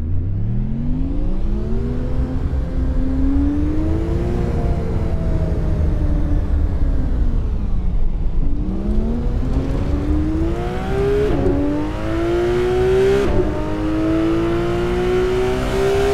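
Car engine in Assetto Corsa on the Hamburg map, revving and shifting through gears with rising and falling pitch sweeps, loud and close, a few sharp gear changes in the second half.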